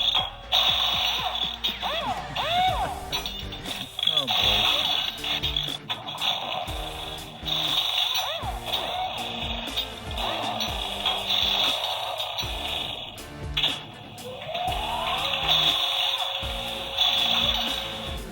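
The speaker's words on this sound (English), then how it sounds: "I'm very impressed by the huge array of Batmobile sound effects that they put in down here." Assorted electronic Batmobile sound effects from a Spin Master Bat Tech Batcave toy play one after another: whirring, clicking, revving and warbling noises, mechanical and synthetic, fairly close with no talking.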